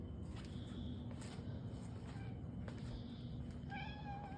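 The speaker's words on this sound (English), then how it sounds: "Oh, that's a right meow." A calico cat meows indoors, a few soft, drawn-out calls rising over a steady background hum, with faint footsteps nearby.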